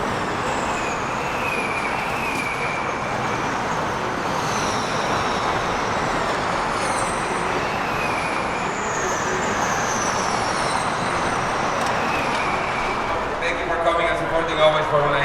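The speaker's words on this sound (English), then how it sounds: "it actually sounds like a train, like different trains just coming past" Formula E electric race cars passing trackside in Santiago in 2019, a steady whirring, whistling whine that rises and falls as cars go by, moderately distant, with talk over it.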